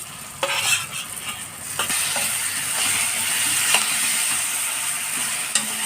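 Eggplant pieces fry in hot oil in a pan for a traditional Maharashtrian bharit, giving a steady close sizzle with occasional spatula scrapes and stirs throughout.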